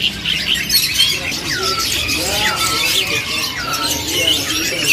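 Loud, busy song of a white starling at a bird-selling kiosk, with rapid whistles and squawky chirps, close by, over chattering voices in the background.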